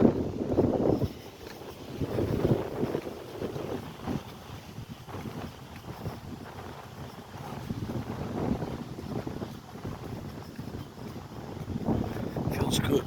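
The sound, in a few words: wind blowing on a cold day by a railway bridge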